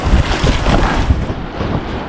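Sea waves slosh and slap against a small boat's hull, with wind buffeting the microphone in a steady, close roar throughout.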